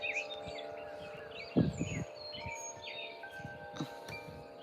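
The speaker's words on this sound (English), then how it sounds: "Can you all hear the birds on your end?" Several birds chirp and whistle outdoors in calm weather ahead of a coming storm, with bright repeated calls from nearby and farther off, a soft rustle partway through, and steady low background noise throughout.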